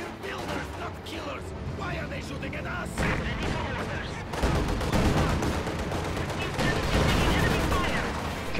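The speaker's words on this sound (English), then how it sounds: "Rakettenwerfer fires at the T-70 right there." Raketenwerfer rocket launchers firing at a T-70 tank in a World War II strategy game, bursts of launch blasts and explosions over dense battle noise, with a commentator talking throughout.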